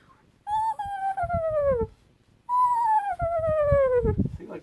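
A voice imitates a high, descending screeching call, two long wavering cries separated by a short pause, close and fairly loud.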